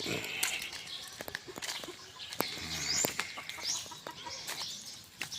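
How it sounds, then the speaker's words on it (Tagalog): Chickens clucking and squawking in a farm coop where pigs are also kept, busy overlapping calls close by with someone talking over them. "Ito yung mga alaga nating manok."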